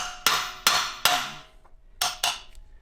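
Five sharp metallic strikes of a big hammer on a chisel, three in quick succession and then two more after a short pause, each ringing briefly and decaying.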